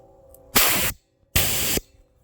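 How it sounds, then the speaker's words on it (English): Compressed air from an air tank blasts through a hose in two loud hissing bursts of about half a second each, separated by a short pause, close up with no talk. "Blow a little bit through it. This is my air tank here."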